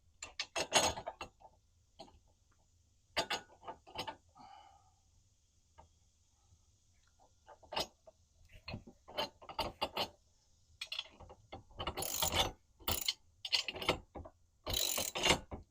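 A 3/4-inch ratchet tightens bolts on a tire carrier being fitted to a ladder, giving bursts of rapid close clicking separated by pauses, with louder sharp clicks toward the end.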